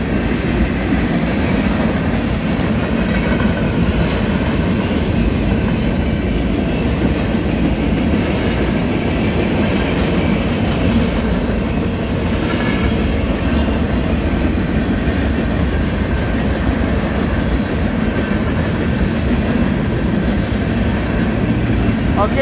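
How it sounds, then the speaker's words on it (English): Union Pacific manifest freight train passing at Olive Ave in Fresno, California: a loud, continuous roar and rumble of rolling railcars with steady wheel clatter close by, sustained for the whole stretch. "Train's passing by, I'm filming it."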